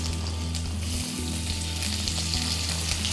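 Onions dropped into hot tempering with curry leaves and green chilli, frying in a pan with a steady, loud, close sizzle and crackle throughout, no voices.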